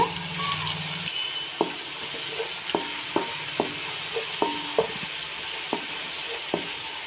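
Slit green chillies fry in hot oil with onion paste for a Godavari-style small-fish curry, giving a steady sizzle with regular clicking spatula taps against the pan.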